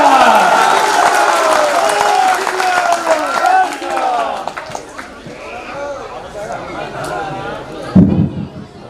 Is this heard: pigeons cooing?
no